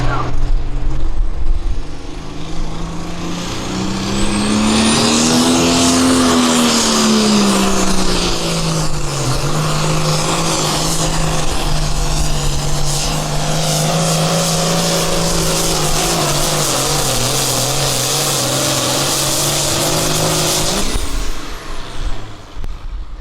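A Ford pro farm class pulling tractor roars at full throttle through a pull at the Midwest Summer Nationals in Freeport, Illinois, loud and sustained with a rising and falling engine pitch, an announcer talking over it.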